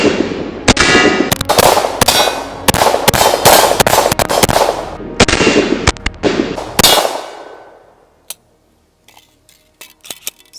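Rapid series of sharp, loud gunshots from a full-size PSA Dagger pistol, fresh out of the box, fired in quick succession for several seconds, then a few faint clinks and near silence.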